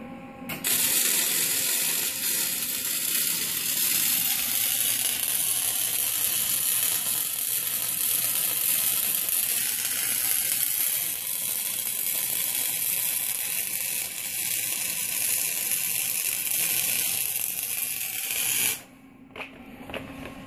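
Continuous crackling buzz of an arc welder laying a bead on a trailer axle, steady and close for about nineteen seconds before cutting off abruptly.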